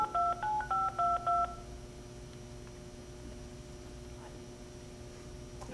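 Close telephone keypad dialing tones, a quick run of about seven even beeps followed by a quiet line with a low hum.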